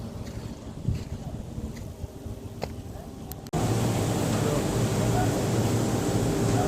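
A diesel farm tractor hauling paddy runs with a steady low engine rumble mixed with wind buffeting, the sound jumping abruptly louder and denser about halfway through.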